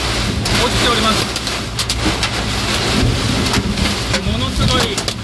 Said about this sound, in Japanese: 今軽トラック乗っておりますけれども、 屋根に氷が落ちております。